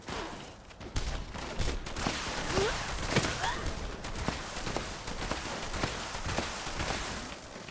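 Dense gunfire and explosions from a battle in the video game Fallout 76, with rapid shots and bursts layered over a loud, continuous din of combat.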